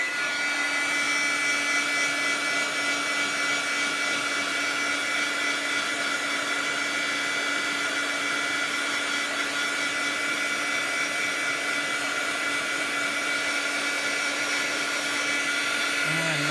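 Heat tool blowing steadily to dry a handmade Christmas envelope journal with a napkin cover, a continuous close whooshing hum lasting the whole stretch with no break.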